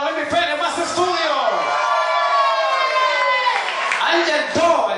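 A live crowd at a concert in San Juan cheers and whoops loudly, with sustained shouting voices and some clapping blended into a dense, close roar.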